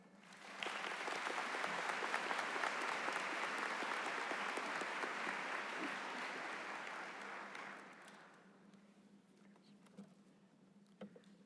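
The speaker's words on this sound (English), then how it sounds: "let's give all our dignitaries and administration a round of applause" A crowd at a high school commencement applauds with dense, sustained clapping for several seconds, then it thins out into scattered claps and room murmur.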